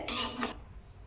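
Rice for paneer biryani being stirred gently in a pot, a short scraping, rubbing clatter of a utensil against metal for about half a second, then quiet kitchen background.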